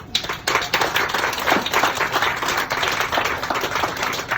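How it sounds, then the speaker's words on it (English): A crowd at the NEXUS Hub opening claps in dense, crisp applause that stays fairly even throughout. "Many of them are here today, so big cheer for them"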